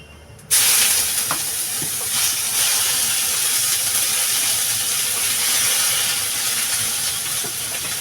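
Garlic and ginger paste dropped into hot oil in a pan for a Bengali village fish curry, starting with a sudden loud hiss that settles into a steady, bright sizzle, close up, with no talking.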